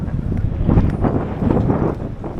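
Wind gusts steadily at a roadside street cafe in central Bremen on a cool, cloudy day, a continuous low rumbling buffet across the microphone with no voices.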